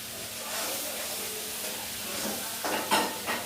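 Boiled potatoes frying with spices in a pan, a steady soft sizzle and hiss with a few stirring scrapes toward the end, fairly quiet and close.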